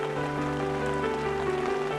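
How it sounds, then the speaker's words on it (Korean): Rain falls on the ground, a soft, steady patter of drops under a faint sustained hum. "비가 대지를 적신다."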